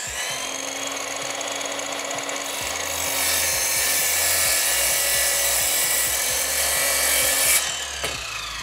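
An Ozito cordless power tool cuts a trench in clamped wood with a steady, high whine and a grinding rasp up close. The cutting grows louder midway, then winds down near the end.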